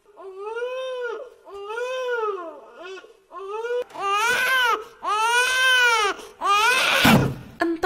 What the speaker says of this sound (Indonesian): Di lorong 2 tiba-tiba ada suara bayi nangis dari dalam loker.